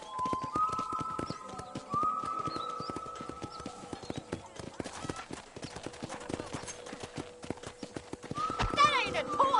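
Horses at a corral in the video game Red Dead Redemption, with repeated hoof clip-clops, an occasional whinny and bird chirps under intermittent speech, moderately quiet.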